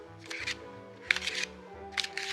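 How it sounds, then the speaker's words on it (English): Tarot card deck being shuffled by hand, three short papery riffle bursts spaced about a second apart, close and fairly soft. "I shuffle my decks before I film any of my videos"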